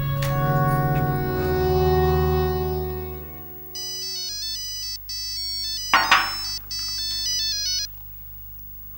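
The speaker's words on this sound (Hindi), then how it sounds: "हाँ खान, मैं तुम्हारे फ़ोन का इंतज़ार कर रहा था।" Phone ringtone in a Hindi TV drama: a fading tonal chime first, then an electronic melody of repeated beeping notes over a low hum, loud and close, with no talking.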